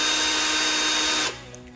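Power drill spinning a polishing pad against a yellowed car headlight at a slower setting, a steady loud whir that cuts off abruptly near the end, leaving a faint hum.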